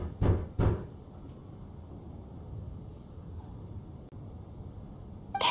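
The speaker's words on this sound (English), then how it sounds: "Or was that a knock at the door?" Two firm knocks on a door in the video game Genshin Impact, close together near the start, followed by a steady low ambient hush like a snowstorm outside.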